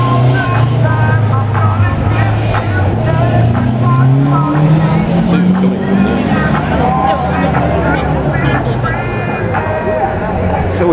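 Classic Opel Ascona rally car driving in a WRC classic car parade in Salou, Spain: a loud, close engine revving with rising and falling pitch, with crowd chatter and voices underneath.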